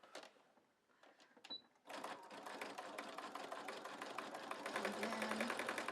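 Sewing machine zigzag stitching across the bottom of a rope coil Easter basket, a few quiet clicks and then a rapid, steady mechanical chatter that runs close and continuous to the end.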